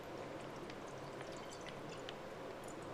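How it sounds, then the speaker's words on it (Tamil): Half a litre of full fat milk is poured into a nonstick pan on a stove for a milk sweet, making a soft, continuous liquid pouring and splashing sound with a few faint drips, quiet and close. "இதில நான் 1/2 லிட்டர் பால் ஊத்துறேன்"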